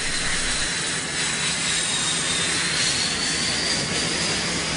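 Military jet aircraft in flight during Gulf War bombing operations, a continuous loud roaring engine rush with a steady broadband hiss and faint whine, unbroken and heard alone.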